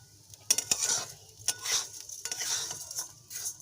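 Nuts frying in ghee over lowered gas flame while being stirred, a faint crackling sizzle punctuated by sharp spoon clicks and scrapes against the pan, close and without voices.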